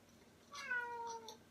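A single soft cat meow, drawn out and slightly falling in pitch, heard faintly against a quiet room.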